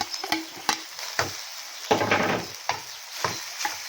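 Leftover cooked rice is stirred and tossed in a hot pan for fried rice, with a steady sizzle broken by regular scraping strokes of a spatula, close up and with no voices.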